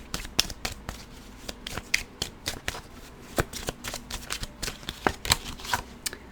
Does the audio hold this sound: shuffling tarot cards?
yes